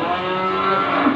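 A cow lowing at a livestock market, one sustained moo heard close and fairly loud for about a second.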